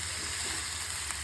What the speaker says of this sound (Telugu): టమాటో వేసుకొని ఆ తర్వాత గ్రీన్ చిల్లీ వేసుకొని మంచిగా ఫ్రై చేసుకోవాలి.